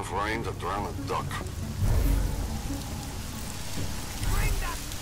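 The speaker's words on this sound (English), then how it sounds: "enough rain to drown a duck." Rain falls in the game Deus Ex: Mankind Divided, a steady wash of drops heard under game character voices and other effects, with a couple of low rumbles.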